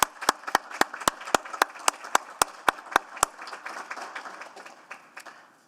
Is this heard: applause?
yes